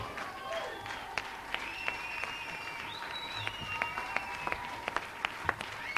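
Audience applause at a live comedy show, faint and steady with a few sharper individual claps, underneath sustained tonal sounds from the stage.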